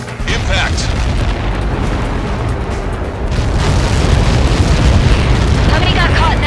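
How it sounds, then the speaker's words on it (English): A Helios projectile impact detonates in the Ace Combat 7 flight game, a sustained booming rumble that swells louder partway through, with voice chatter over it. "How many got caught in that explosion?"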